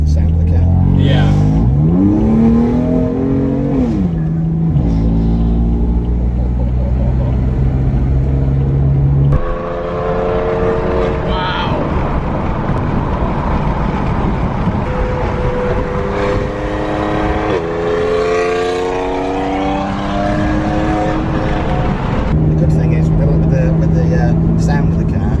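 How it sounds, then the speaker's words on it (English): A 600 BHP BMW M4 engine revving and accelerating, loud and close, with rising engine tones, a quick downshift and repeated surges of exhaust roar, while people talk over it. "Obviously, the police really love the sound of the car."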